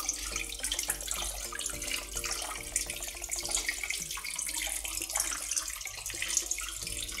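An indoor decorative waterfall among houseplants trickles and splashes continuously, a close, steady patter of falling water with fine bubbling detail and no talking.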